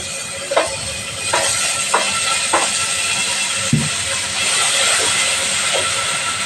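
Tomatoes go into a pan of sautéing mixed vegetables, giving a loud, steady sizzling hiss close by, with a few light taps and clinks from utensils over it.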